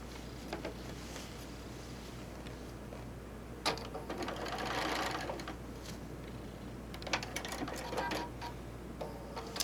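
A sewing machine tacks a fat-quarter quilt, its needle chattering in short rapid bursts separated by brief pauses, steady and close against a low hum.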